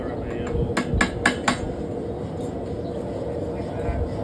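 Four quick, ringing hammer strikes on metal while forging a rose, evenly spaced over about a second, close and sharp, followed by low workshop background noise.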